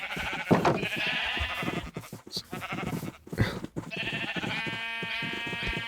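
Several sheep in a video game bleat repeatedly at close range, wavering cries overlapping in quick succession with brief gaps between calls.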